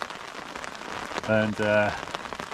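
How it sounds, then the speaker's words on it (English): Rain from an incoming storm patters steadily on a surface beside the River Wye, a dense, continuous hiss of drops while someone speaks briefly over it. "The rain's coming down now"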